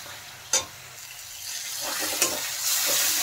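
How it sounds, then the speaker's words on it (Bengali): Masala spices being fried down in oil in a pan for a mushroom curry, a soft steady sizzle with a couple of sharp scraping stirs, close and alone. "মশলা ভালোভাবে কষানো হয়ে গেছে"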